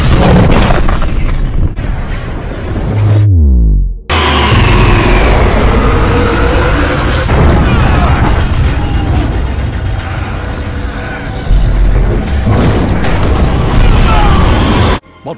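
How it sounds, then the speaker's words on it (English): Bomb explosion aboard a cruiser in a Star Wars scene, a loud booming blast followed by a brief drop to near-silence, then a long roaring rumble with layered dramatic sound effects. "It's a bomb."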